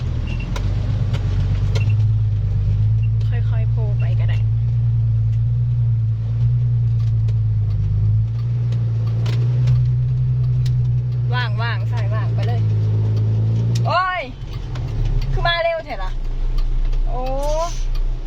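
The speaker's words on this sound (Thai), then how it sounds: "เดี๋ยวเบิ้งรถใส่ให้" Six-wheel truck engine idling with a steady low rumble, close and loud, as people talk over it in Thai; the drone cuts out briefly near the end.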